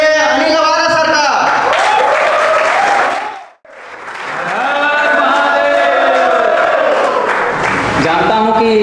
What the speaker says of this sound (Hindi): इसी के साथ जोरदार तालियों से स्वागत करिए अनिल अवारा सर का।